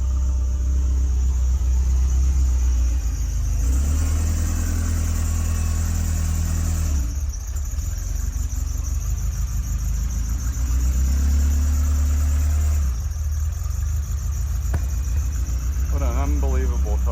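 A 1978 Ferrari 308 GTS engine idles after a cold start, a loud, steady close rumble with slight surges in pitch, while people talk faintly beside it.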